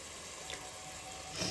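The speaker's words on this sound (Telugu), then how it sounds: "ముందు మనం నానబెట్టాం కదా చింతపండు, అది కొంచెం ఇప్పుడు వేసేసుకోవాలి" Soaked tamarind water is poured into a fish curry frying in a pan, a soft splashing pour that swells near the end over a steady low sizzle.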